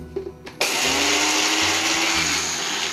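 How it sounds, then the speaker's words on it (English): A Magic Bullet blender grinds oatmeal: after a couple of brief clicks, the motor kicks in abruptly with a loud, steady, close whirring roar that holds to the end. "Dump it in your magic bullet, put the lid on it, and grind it up."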